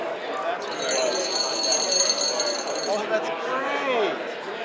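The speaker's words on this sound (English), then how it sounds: "we've got a vibrating motor inside this bell here" A littleBits vibrating motor rattles inside a small bell, giving a steady buzzy ringing for most of the clip while a person talks over it.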